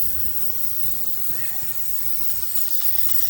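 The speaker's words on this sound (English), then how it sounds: "it's always a good practice to spray rust check" A steady, close aerosol spray of rust inhibitor hisses continuously for a few seconds without pause.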